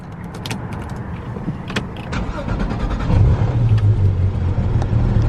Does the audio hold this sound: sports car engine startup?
yes